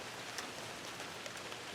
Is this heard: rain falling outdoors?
yes